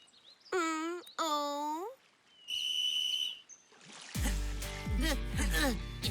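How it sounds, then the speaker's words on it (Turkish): A sharp, shrill whistle blast starts a rowing race, ringing out between voices, followed by busy splashing and commotion as the oars suddenly pull into motion. "Düdük çaldı ve yarış başladı."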